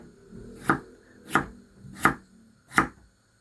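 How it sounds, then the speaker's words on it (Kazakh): Four crisp knife chops cut potatoes into cubes on a cutting board at a steady, unhurried pace, clear and close with quiet in between. "картошканы да кубик тәрізді турап аламыз"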